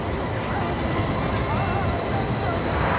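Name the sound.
tram running through the city of Rabat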